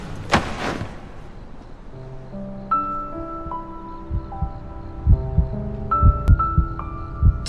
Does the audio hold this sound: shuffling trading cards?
no